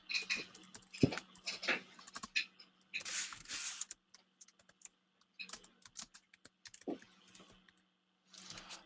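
Bursts of rapid keyboard typing with clicky keystrokes in irregular clusters, separated by short pauses; a faint low hum runs underneath.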